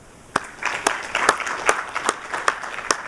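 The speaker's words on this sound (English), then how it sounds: "give to the speakers just a round of applause" Conference attendees at a university entrepreneurship event give a round of applause, a moderate, even patter of many hands with a few sharper claps standing out, no talking over it.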